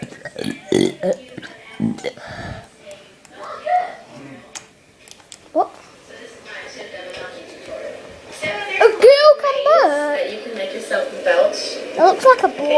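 A man lets out a run of drawn-out, warbling burps near the end. Talking and laughter come before and around the close, loud belches.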